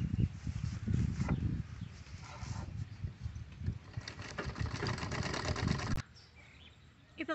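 A sewing machine stitching fabric for a drawstring wrist bag, running in a continuous close mechanical whir for several seconds before cutting off near the end.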